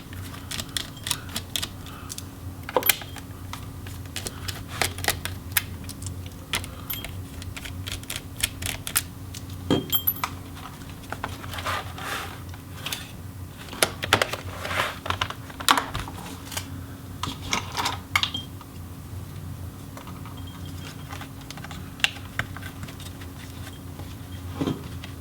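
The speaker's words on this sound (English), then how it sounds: "we're just gonna have to remove all of these black screws that are holding the case and palm rest together" Small black screws being unscrewed from the case and palm rest of a Dell G5 5587 laptop: irregular bursts of close, sharp clicks and ticks of a screwdriver over a steady low hum, with no talk.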